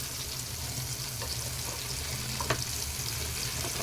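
Paneer pieces fry in a hot pan with a steady, close sizzle of oil, a continuous crackling hiss running throughout with a few small pops and faint utensil touches, and no voices.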